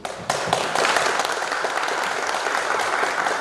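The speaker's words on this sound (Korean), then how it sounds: "감사의 박수를 부탁드리겠습니다." Landowners at a neighborhood redevelopment briefing give a round of thankful applause, a sudden onset of many hands clapping that holds steady and loud throughout.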